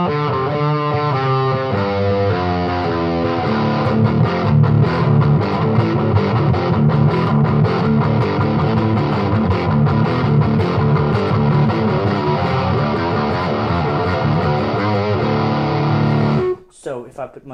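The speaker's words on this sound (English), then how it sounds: "I'm using the US Dream as a distortion" Electric guitar through a US Dream distortion pedal plays chords and riffs continuously, gritty and sustained, before cutting off abruptly near the end.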